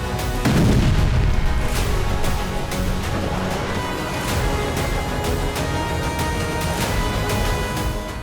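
Neptune missiles are fired at Crimea amid a dense, loud barrage of booming blasts and sharp cracks that roll over a continuous roaring rumble, with no speech over it.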